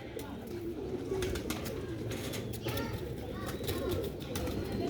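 Pigeons from a Sialkoti show-pigeon loft give soft, continuous cooing and fluttering over steady low background noise, with faint chirps mixed in.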